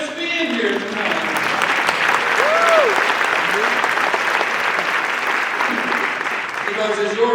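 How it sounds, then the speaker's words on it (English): Audience applause fills a large hall at a community justice action assembly, a steady wash of many hands clapping with cheering voices and a brief whistle rising over it, loud and sustained throughout. "Let's give them a round of applause"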